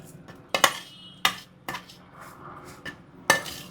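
Roasted vermicelli being shifted into another vessel with a metal spoon, a few sharp scraping clinks against the pan in irregular bursts, close and fairly crisp, with no talk.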